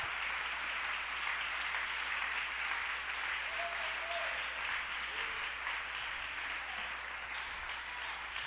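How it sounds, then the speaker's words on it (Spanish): A church congregation applauds steadily during a sermon, a dense, continuous wash of many hands clapping that holds at an even level for the whole stretch with no voices rising above it. "Ese aplauso para Él, porque Él ha hecho una obra extraordinaria."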